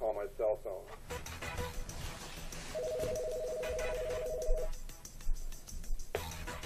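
Telephone keypad dialing tones on a small office phone system, a steady two-tone beep held for about two seconds between stretches of a voice talking, close and clear.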